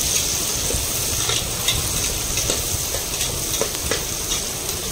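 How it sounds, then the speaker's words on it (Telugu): Asafoetida fries in hot oil in a pan for bottle gourd rice, giving a close, even sizzle with occasional small crackles and stirs. "కొంచెం లైట్ గోల్డ్ బ్రౌన్ వచ్చేంత వరకు ఫ్రై చేసుకుందాము"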